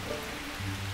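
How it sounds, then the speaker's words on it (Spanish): Cartoon rain pours down steadily, a dense, continuous patter of drops on surfaces with no voices, filling the whole moment at an even level. "La verdad, odio la lluvia."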